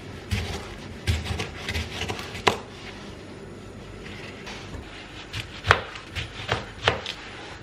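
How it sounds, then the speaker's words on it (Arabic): A knife slices tomatoes on a cutting board for an Egyptian fatta meal, producing soft, irregular close taps and thuds with short gaps, and no talking. "نحتاج طماطم هنقطعها شرايح"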